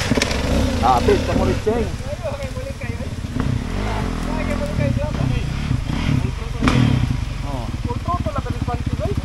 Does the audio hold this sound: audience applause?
no